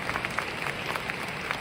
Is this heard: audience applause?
yes